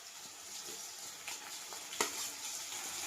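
Green chilies frying with onions in a pan for masala pasta, a soft continuous sizzle with scattered small pops and one sharper utensil tap partway through.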